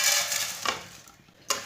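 Vermicelli browning in a little oil in a pan over low heat, a steady soft sizzle with two brief scraping strokes of a spoon, close by and without talk.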